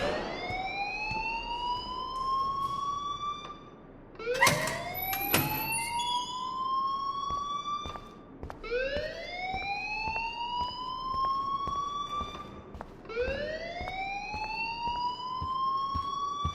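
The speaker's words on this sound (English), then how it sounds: "please turn off that alarm since that's your job." A school alarm in the video game Life is Strange wails in repeated rising sweeps, loud and steady, each tone climbing then holding before starting again, with a brief burst of harsher noise between cycles and no talking over it.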